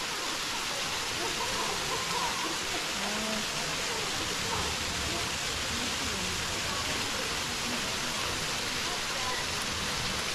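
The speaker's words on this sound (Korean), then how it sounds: "절구 폭포입니다." Jeolgu waterfall at Juwangsan mountain in autumn pours in a steady, dense roar of falling water, constant and enveloping with no break across the whole stretch.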